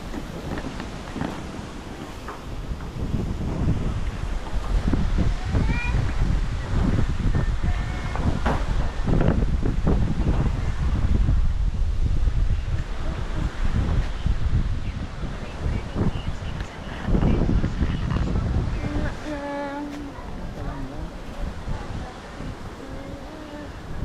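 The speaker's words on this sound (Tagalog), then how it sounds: "lakas ng hangin" Strong typhoon wind in Panay roaring and buffeting the microphone in heavy gusts, with rustling and rattling debris; no voices are heard.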